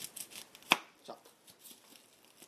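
A kitchen knife cuts through an onion on a board, giving one sharp, close thunk followed by a softer tap and faint scraping.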